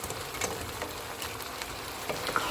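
Fried rice with fried chicken and spring onion greens being stir-fried in a pan, a steady close sizzle with soft rhythmic scraping and tossing throughout, no voices.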